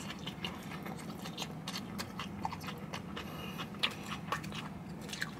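Close-up chewing of a Saladworks salad with cucumber and rice: soft, steady crunching and mouth sounds continuing throughout with no talk.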